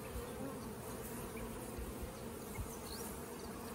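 Honey bees buzz steadily around beehives fitted with honey supers, the dense insect drone continuous and moderately close throughout, with no talking.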